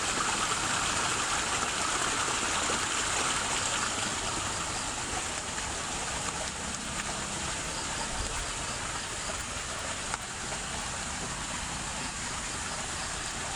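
A strong flow of reddish running water gushes steadily and loudly close by, a constant broadband rush for the whole stretch.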